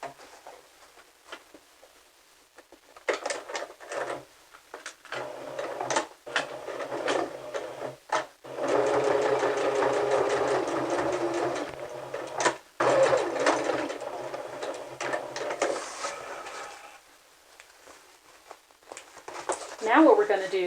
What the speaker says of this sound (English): mark the line, your stitching line, then sew that seam